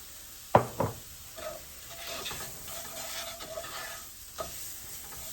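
Shrimp simmering in red sauce in a pan are stirred, with a soft steady sizzle, a couple of sharp utensil knocks against the pan near the start and another near the end, and scraping stir sounds in between.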